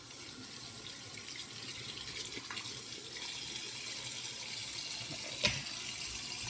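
Tap water runs steadily into a bathroom sink while a face is rinsed during a nighttime skincare routine, a constant soft splashing with one brief sharp knock near the end.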